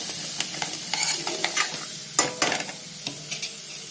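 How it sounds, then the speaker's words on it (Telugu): Ginger garlic paste sizzles and crackles in hot oil in a pan as egg noodle curry cooking begins, with a steady frying hiss and spoon stirring clinks and scrapes at irregular intervals, close and fairly loud, no talking. "ఇదంతా కూడా ఆయిల్లో బాగా వేగనివ్వాలి"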